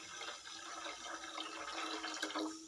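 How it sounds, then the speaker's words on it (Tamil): Water, lightly tinted with turmeric, is poured into a cooking pot already holding ghee, a steady splashing and gurgling stream lasting under three seconds, close and moderately quiet. "1 லிட்டர் தண்ணி சேர்த்துக்கணும்."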